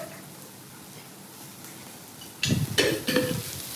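Ginger paste, onion and green chillies frying in a pan, quiet at first, then a burst of stirring scrapes and sizzle near the end, close and fairly loud.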